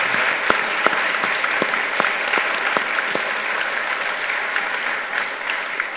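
Audience applause for candidates at a young professionals' mayoral forum, steady clapping from a moderately sized crowd with distinct sharp claps standing out, lasting about six seconds.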